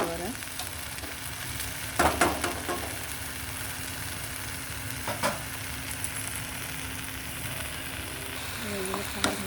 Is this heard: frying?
yes